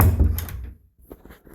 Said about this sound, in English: So I'm just about to close the door over again and make sure that it all locks.